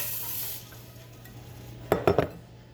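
Cinnamon sticks and elderberries drop into a pot of filtered water for elderberry syrup, giving three quick close clatters in a row after a soft hiss, with no talking.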